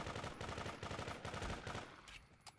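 Rapid automatic gunfire from a gun in Garry's Mod during a zombie apocalypse game, a loud, steady stream of shots that tails off at the end.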